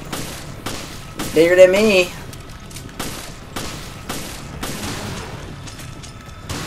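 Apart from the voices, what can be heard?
handgun gunfire in Resident Evil Revelations video game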